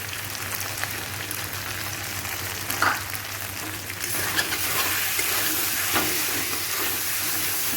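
Ground spices with salt and turmeric fry and scrape in a pan for ghugni, a steady soft sizzle running throughout, with occasional stirring clinks and a brighter hiss swelling from midway.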